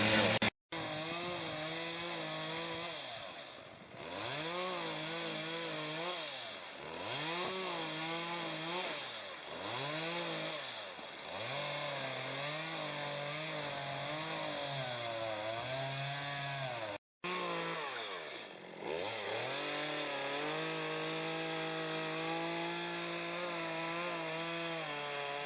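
Chainsaws run loudly and continuously while cutting logs for a log cabin, their engines rising and falling in pitch as they bite into wood, with brief drops between cuts.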